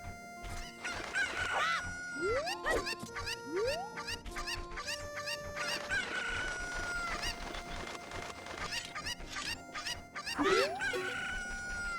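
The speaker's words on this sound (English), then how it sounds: "I need to grab the cucco." A cucco chicken in the video game Zelda Ocarina of Time sends out repeated loud crowing and clucking calls, with rising squawks overlapping across the whole stretch over a busy game background with no talking.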